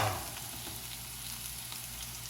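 Onions for a Philly steak wrap fry in a hot pan, giving a steady, soft, even sizzle with no talking.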